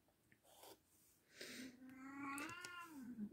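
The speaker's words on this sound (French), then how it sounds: "Et ben voilà, tu peux faire miaou." A cat meows close by, first with a few short faint sounds and then one long, drawn-out plaintive meow that rises and bends before it fades.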